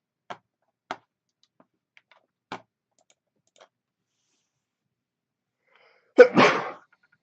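One sharp, close sneeze bursts out after a few scattered keyboard clicks and taps in a quiet room, loud against near silence.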